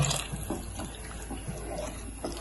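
Water pours into a cooking pot of Afghani beef pulao in a steady, soft splashing stream, faint and close, with no voices.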